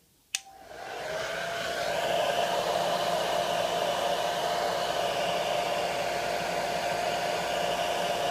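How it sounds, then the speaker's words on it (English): A hair dryer clicks on and blows with a steady, loud whooshing whine onto a temperature sensor, holding constant to the end. "I'm going to heat up my temperature sensor by a dryer here."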